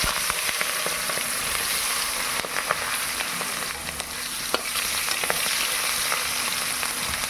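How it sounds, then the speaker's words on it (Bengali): Onions sizzling and frying in hot oil with bay leaf and chili in a pan, a steady dense crackle with sharp pops and occasional stirring clicks throughout, fairly close and even in loudness. "পেঁয়াজগুলো ছেড়ে দেবো।"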